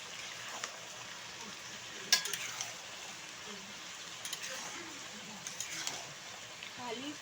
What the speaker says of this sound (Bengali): দেখো আলুগুলো ঢেলে দিলে, ঢেলে নিয়ে ভালো করে নড়ায় নিতে হবে।